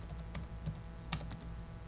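Computer keyboard keys click in a quick irregular series of light taps, fairly faint over a low background hum.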